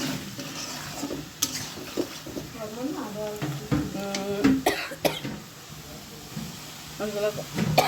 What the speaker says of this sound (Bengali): চিংড়ি মাছ বোনা করা হইতেছে, এটা আদিলার জন্য